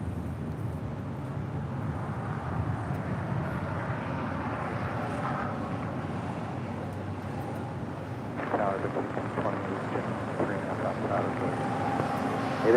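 Air China Boeing 777-300ER from Beijing arriving at LAX: a distant, broad jet roar that swells over several seconds, mixed with gusty wind noise against the microphone.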